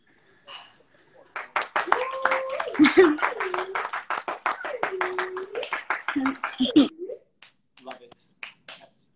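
A small audience claps rhythmically in sharp, close, evenly spaced claps for several seconds, under a voice speaking over them before the clapping trails off.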